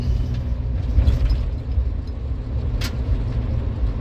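Low engine rumble of a car driving along with good throttle response, a steady droning road noise close by with a brief higher hiss, no talk.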